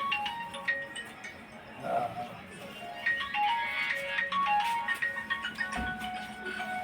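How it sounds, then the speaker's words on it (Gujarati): A mobile phone rings for an incoming call with a chiming electronic melody, moderately loud over light room noise, with no speech. "એટલે ફોન તો આવ્યો."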